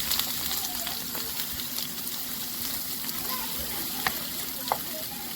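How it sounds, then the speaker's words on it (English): Indian eggplant, peppers, mushroom, okra and onion fry in a pan with a steady, dense sizzle and occasional stirring clinks, while a person talks over it. "So now I'm going to be frying some Indian eggplant, peppers, mushroom,"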